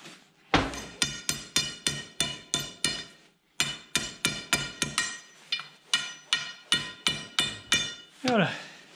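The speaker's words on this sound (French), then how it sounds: "Allez, quelques coups de marteau pour écarter ça" A metal hammer strikes a part repeatedly to spread it apart during a tractor hydraulic lift repair: two steady runs of sharp, ringing blows close to the microphone, separated by a brief pause, with a scrape at the end.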